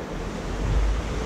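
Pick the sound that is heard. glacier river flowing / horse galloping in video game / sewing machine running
glacier river flowing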